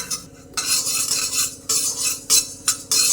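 Coriander seeds stirred and fried in a pan, a spoon scraping and rattling the seeds in repeated sweeping strokes with a light sizzle underneath, close and fairly loud.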